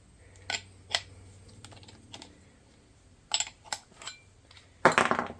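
Metal router bits, including round-over bits, clatter and clink against one another as they are handled in a woodworking shop, heard as several sharp close clicks spread out, with a louder jangling burst near the end.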